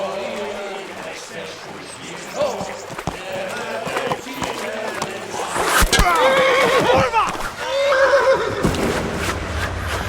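A horse in the medieval game Kingdom Come: Deliverance neighs loudly over clopping hooves and game sounds, with a long, shrill whinny coming near the middle and shouting voices mixed in.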